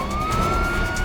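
A police siren wails loudly and close in a scene from the Indian crime drama CID, holding a steady rising tone over a rumbling vehicle engine.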